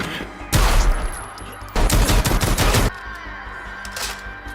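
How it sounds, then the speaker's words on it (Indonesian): Gunfire in a film shootout: two long, loud bursts of rapid shots, separated by a brief lull, then quieter background sound at the end. "Dan detektif Dennis pun muncul ikut adu tembak"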